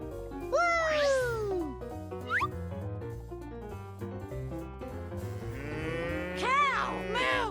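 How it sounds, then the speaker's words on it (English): Cartoon cow mooing in a children's animal-learning song, drawn-out moos over bouncy music, with a voice chiming in. "Cow! Moo!"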